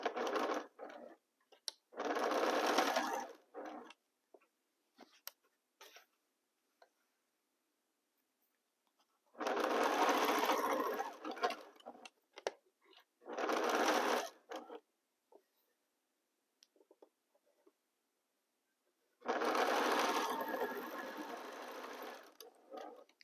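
Sewing machine stitching fabric seams in four separate runs of fast, even needle chatter, close and clear, with quiet gaps and small handling clicks between runs.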